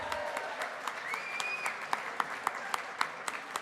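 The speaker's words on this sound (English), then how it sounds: "Big round of applause" Scattered clapping rises at a Habitat for Humanity fundraiser gathering, a modest audience with several sharp individual claps standing out toward the end, heard from a little distance.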